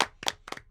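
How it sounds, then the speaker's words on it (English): A few people clap in short bursts at a podcast recording, a small scattered group rather than a full crowd, with brief sharp claps in three clusters separated by gaps. "Can we clap?"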